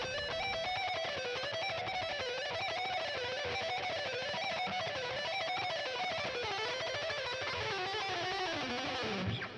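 An electric guitar plays a fast, continuous line of rapidly picked notes in a wavering, repeating melodic pattern, evenly loud and alone for nearly ten seconds before stopping abruptly.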